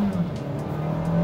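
2021 Kia Seltos SX with its turbo engine, a brief burst of acceleration heard from the cabin as a steady, moderately loud engine note.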